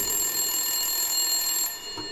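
A ghost phone rings in a haunted mansion setting, a loud continuous electronic trill that carries steadily, then cuts off near the end, with no voices over it.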